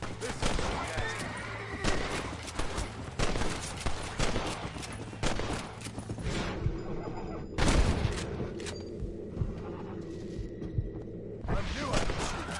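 Gunfire cracks in Red Dead Redemption, a series of loud, rapid shots mixed with horse whinnies and hoofbeats, with a quieter lull before a final burst.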